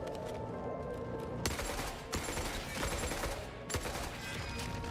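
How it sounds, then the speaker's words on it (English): Sustained RPK machine gun fire in the video game Forever Winter, with dense overlapping bursts and several sharp louder volleys over a constant roar of battle. "It sounds exactly like the RPK."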